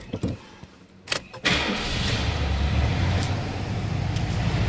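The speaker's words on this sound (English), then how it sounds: "Let's go ahead and fire it up." A 1979 Lincoln Continental engine cranks briefly and fires, then settles into a smooth, steady idle close by, preceded by a few clicks and clunks from inside the car.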